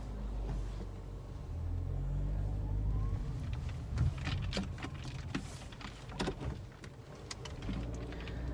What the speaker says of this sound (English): As soon as this car passes, we're back out of here.